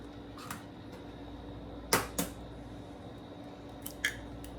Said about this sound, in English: I like to crack it on the edge of something.